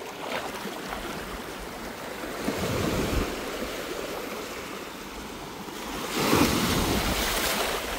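Sea waves crash and wash on the shore along the Vanni coast near Puthukkudiyiruppu, a continuous loud surf roar that swells at intervals, mixed with wind buffeting the microphone.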